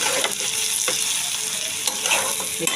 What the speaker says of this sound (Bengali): একটু ভালো করে আমি ভেজে নেব